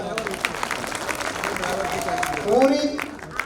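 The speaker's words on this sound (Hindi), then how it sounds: "जोरदार तालियां।" Applause from a crowd at a golden jubilee celebration, a steady wash of clapping with voices mixed in, swelling briefly near the end.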